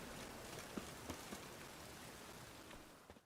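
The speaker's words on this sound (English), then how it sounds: "and it's raining again." Steady rain falls on a surface, a dense even hiss of drops with a few slightly louder taps standing out, fairly quiet and with no voices.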